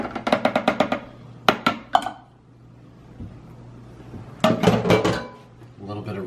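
Soft poached garlic cloves, eight ounces in all, dropped into a food processor, heard as a rapid run of hard clattering knocks, then a few separate thuds and a final cluster of clunks, close and loud against a quiet background.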